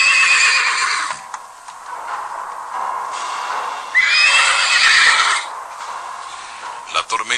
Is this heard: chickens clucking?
no